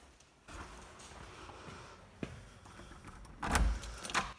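Keys jangle close up as a front door is unlocked and opened, a steady metallic rattle with a louder clatter and thump of the door near the end. No one speaks.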